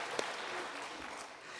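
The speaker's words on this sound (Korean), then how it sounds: "더 건강하시라고 우리 격려의 박수 보내드리겠습니다" Church congregation applause during a Korean Sunday worship service, a brief, steady patter of many hands clapping at moderate distance.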